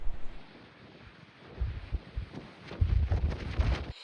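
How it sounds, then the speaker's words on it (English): Strong gusts of wind batter the microphone on Route 66 near Grants, New Mexico, with a dust storm in the distance; low rumbling bursts swell and fade several times over a few seconds, with no talking. "So that's how windy it is"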